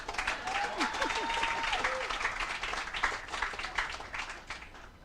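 An outdoor crowd at a political party meeting applauds, dense clapping with scattered cheers and shouts, strong at first then gradually thinning out.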